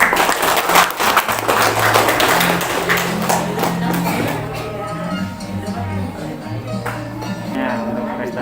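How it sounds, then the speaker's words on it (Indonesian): Applause from a crowd at a Grade 6 farewell ceremony at an Indonesian elementary school, steady dense clapping carrying through the whole stretch over a low sustained musical drone, fairly loud. "Tepuk tangan"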